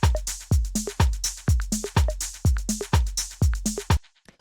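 Electronic drum group from an organic electronic track: punchy kicks on a steady beat with crisp hi-hats, short tonal percussion blips and snappy hits, looping loud and close for four seconds before cutting to near silence.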